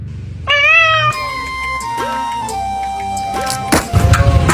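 A cat running toward a lit tandoor meows loudly and close, with a long drawn-out cry followed by shorter, wavering meows, then a clattering thump at the end.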